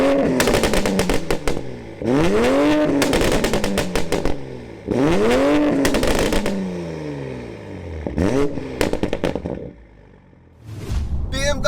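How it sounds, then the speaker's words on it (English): A tuned 460bhp stage 2 MkV Toyota Supra sports car engine revving hard, repeated loud rising and falling blips with crackles and pops between them, close and aggressive, pausing briefly before another burst. "the revving on this sounds kind of mad, right?"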